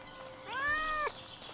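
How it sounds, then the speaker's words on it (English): A single drawn-out cat meow, rising and then bending down at the end, clear and close, from a black cat in the game Little Misfortune. No one speaks over it. "Wait, there's a cat."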